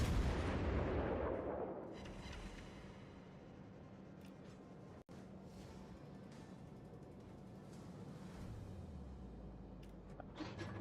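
A destroyer in the World of Warships naval game fires semi-armor-piercing shells, heard as a loud booming salvo at the start that decays into a rumbling battle din, with a sharp cut around the middle and a low rising tone near the end.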